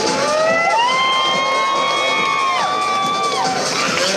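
A crowd cheers a jet stunt rider at a live stunt show with loud, sustained shouts and long rising and falling whoops that carry over the roar.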